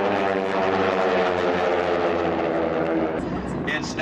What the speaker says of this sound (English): we have got the airplanes down on the track now at about 250 miles an hour